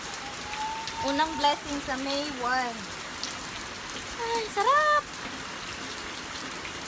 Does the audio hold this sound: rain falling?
yes